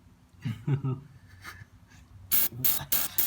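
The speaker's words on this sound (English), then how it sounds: "More WD-40s? We need more." WD-40 lubricant sprayed onto a hot engine part of a Chevy HHR in several short hissing bursts near the end, after a voice speaks.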